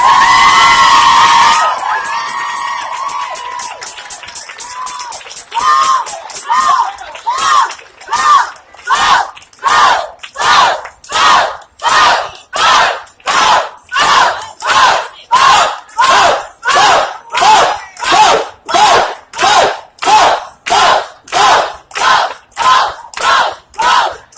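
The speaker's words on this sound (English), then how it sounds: "Let's give these ladies another round of applause." Crowd at a Black women's march in Denver gives a loud round of applause and rhythmic cheering, the clapping and chanting swelling into steady repeated bursts after an opening shout from a voice.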